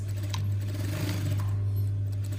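A sewing machine hums steadily as it back tacks a seam on a jacket lining, a close, even motor drone that carries on alone with no talk.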